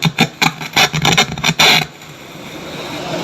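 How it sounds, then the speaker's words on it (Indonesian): Polytron PAS 79 active speaker with a fault, giving bursts of loud, harsh crackling and raspy distortion that cut in and out for about two seconds, then fall to a steady low hiss. "Speakernya gerodok-gerodok"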